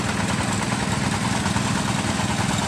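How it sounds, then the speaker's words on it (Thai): Loud, steady Honda and Kubota water pump engines drone continuously nearby, pumping a canal, a dense mechanical rumble with no pauses or voices. "ก็เสียงดังพี่น้อง เสียงเครื่องฮันด้า กับ เครื่องคูโบต้าเนาะ"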